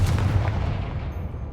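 A Confringo blast spell bursts in Hogwarts Legacy, a dense, booming explosion that hits hard at the start and rumbles on loudly in a low, sustained roar with no voices over it.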